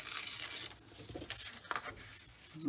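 Paper tears close by in one quick broadband rip, then softer rustling and handling noises follow in the quiet.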